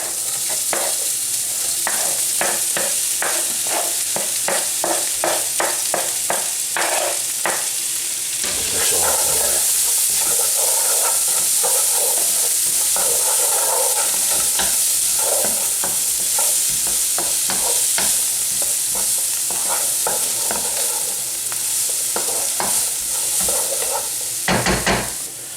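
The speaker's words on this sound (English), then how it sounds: "So the onions now are cooking through, and I'm trying to get as much colour as I can on those onions" Two chopped onions frying in a pan for chicken madras, a loud steady sizzle with rapid rhythmic spatula scrapes early on, settling into an even hiss before more stirring at the end.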